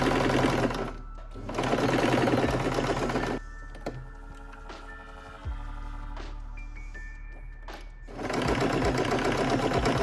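A sewing machine stitching the seam of a quilted tote bag whirs loudly and close in two bursts of steady rapid stitching, separated by a quieter pause with light mechanical clicks.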